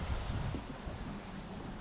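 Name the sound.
wind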